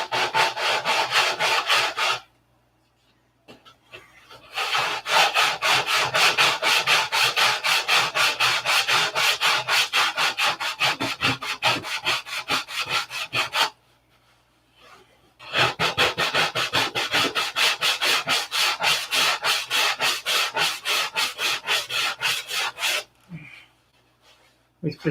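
A glued wooden model airplane fuselage is sanded in long bursts of rapid, rhythmic back-and-forth rubbing strokes, loud and close, with two short pauses between the sanding runs.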